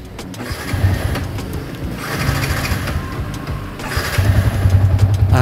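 A used silver motorcycle with about 73,000 on the odometer cranks and catches, its engine turning over unevenly before settling into a steady, close, moderately loud running rumble that builds toward the end.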